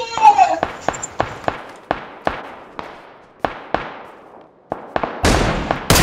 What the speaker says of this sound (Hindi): बड़ा गोलियां चल रही हैं